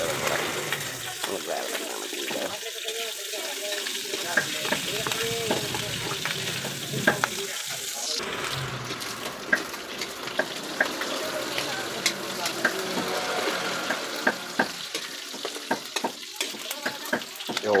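Pakbet vegetables fry and brown in a hot pan, a constant loud sizzle with scraping stirs and clinks of a utensil throughout, while a person talks intermittently over the cooking.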